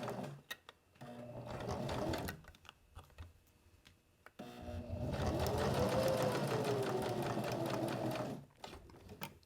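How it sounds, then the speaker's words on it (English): Sewing machine back stitching on a fabric business card holder, a fast steady mechanical rattle of needle strokes in two runs separated by a short pause, close and fairly quiet. "And I'm going to back stitch over that."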